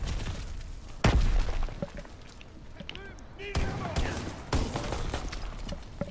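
Gunfire and a grenade explosion in Call of Duty WW2 sound as sharp heavy blasts and scattered shots at mid distance, with a player talking over the action.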